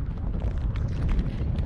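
Strong wind of 15 to 20 mph, gusting to 30, rushes over a cold mountainside as a steady, dense roar buffeting the microphone, loud and continuous with no voices.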